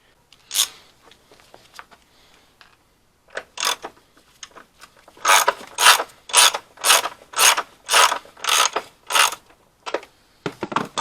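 Ratchet with a 10mm socket turning a car battery clamp bolt on a Vauxhall Astra, a few scattered clicks at first, then a steady run of about ten loud, evenly spaced ratcheting bursts up close.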